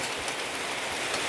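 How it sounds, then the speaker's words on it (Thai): Heavy rain pours down steadily during a storm, a dense, loud, continuous wash of drops close by with no pauses. "ฝนตก"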